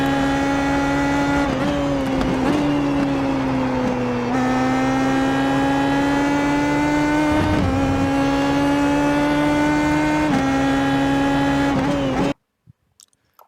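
A race car in a Watkins Glen racing video game holds a loud, continuous full-throttle engine drone, its pitch dipping briefly at shifts, until it cuts off abruptly near the end.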